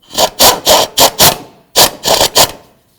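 Engine mounting bolt on a 2007-12 Nissan Sentra being turned with a ratchet, giving loud close rasping strokes in two quick bursts of about five each, separated by a short pause.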